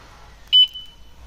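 A Jet-X 125 scooter alarm gives a single short, loud electronic beep while its sensitivity level is being set, alone in otherwise quiet surroundings.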